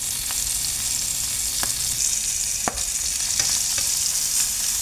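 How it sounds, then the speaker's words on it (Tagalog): Salmon fillets frying in a pan, cooked alongside asparagus, with a steady close sizzle throughout and a few sharp spatter pops and brief utensil scrapes scattered across it. "ganyan lang ang pagluto ng salmon"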